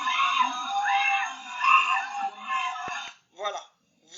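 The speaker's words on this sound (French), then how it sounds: "Vous entendez les femmes crier." Women scream in sustained, high-pitched wailing cries that rise and fall over several seconds. Short gaps break the cries, and a couple of shorter shrieks come near the end.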